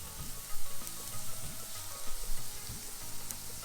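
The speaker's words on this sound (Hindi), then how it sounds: "प्याज को हल्का ब्राउन होने तक हम भून लेंगे।" Onions sizzle and fry steadily in a pan while being cooked for Nimadi-style dal dhokla, with soft crackling and occasional stirring scrapes, close and continuous with no talk.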